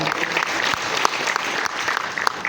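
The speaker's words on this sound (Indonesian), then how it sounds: "Kita boleh tepuk tangan lagi." Audience at a speaking event by Indonesia's communications and digital minister breaking into applause, a continuous crowd of clapping hands with a few sharper individual claps standing out.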